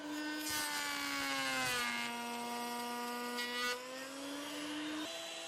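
Hand saw cutting wood against the grain, a sustained raspy scraping with strong ringing overtones, continuous and close, with a brief change in pitch as the stroke shifts.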